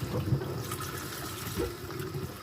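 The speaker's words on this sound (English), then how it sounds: "Might as well rinse this off while I have that here." Running water splashes and gurgles as a container is rinsed outdoors while feeding chickens, a soft, steady trickle heard close by.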